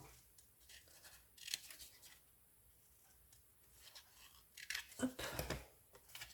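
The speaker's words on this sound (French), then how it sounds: "Je viens couper mes angles" Scissors snip at the corners of a card in a few quiet, close cuts, with soft rustling and handling between them.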